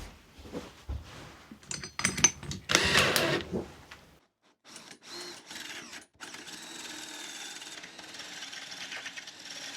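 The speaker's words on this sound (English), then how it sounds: "get marked out where I want these holes to go, get them drilled" A drill bores holes into wooden candle holders meant for tea lights. Short, loud bursts of drilling with clatter come first, then a pause, then a quieter, steadier whir with a few brief stops.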